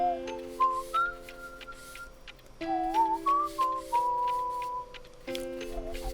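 A person whistles a tune in short melodic phrases over a steady sustained musical backing with light ticking, the whistled notes fairly close and clear, with no talking.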